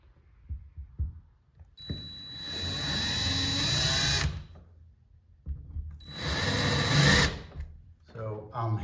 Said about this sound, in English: I'm going to put a slight little bit drill hole in here so I can start the screw